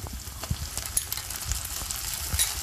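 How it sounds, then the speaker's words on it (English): Onion paste frying in a pan for egg curry, a steady close crackling sizzle with stirring scrapes and small pops, no voices. "Let this mixture fry for at least 4 to 5 minutes."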